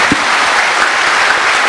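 Steady applause from a talk show audience, dense and loud throughout, with no pauses and no voices on top.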